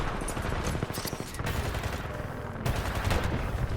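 Dense, continuous gunfire from an online shooting game with a robot theme, rapid volleys and bursts crackling throughout, loud and close with no pauses.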